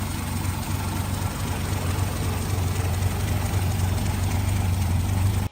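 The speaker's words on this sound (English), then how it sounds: "Chrysler dropped something else under the bonnet of the SV1, the 225 cubic inch slant six." A Chrysler SV1 with its 225 cubic inch slant-six, an inline six tilted 30 degrees, running with a steady, loud, low rumbling drone that holds evenly before cutting off sharply at the end.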